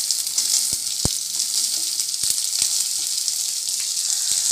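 Chopped onions sizzle in hot oil with ginger and garlic in a pan while cooking a veg tortilla, a steady loud frying hiss with a few sharp clicks and taps, no talking.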